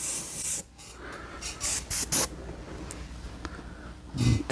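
Short bursts of paint spray hiss from an Iwata High Performance HP-C Plus airbrush in quick succession, fairly faint and close, with brief pauses between passes.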